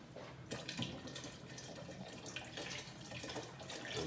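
Water pours from an emptied tomato can into a simmering tomato sauce, a soft continuous splashing gurgle with a few surges, close and fairly quiet, no talking.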